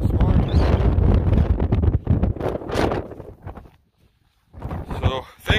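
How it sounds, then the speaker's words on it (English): Strong morning wind buffets the microphone outdoors near a barn, loud rumbling gusts that drop to near silence briefly before picking up again. "that friggin' wind is friggin' terrible here this morning"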